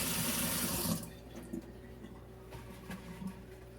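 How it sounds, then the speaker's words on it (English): Running water from a kitchen tap pours loudly for about a second as hands are washed, then cuts off, leaving faint drips and small handling sounds. "Okay, wash my hands."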